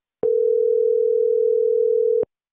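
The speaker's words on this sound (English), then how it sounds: "I'll give Sid the silversmith a call" A steady telephone dial tone hums alone for about two seconds before a call is placed, loud and even from start to finish with clean edges.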